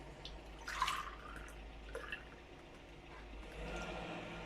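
Milk is poured from a cup into a bowl for lavash dough, giving a faint, close liquid splash and trickle that swells briefly and then settles into a soft flow, with no talk.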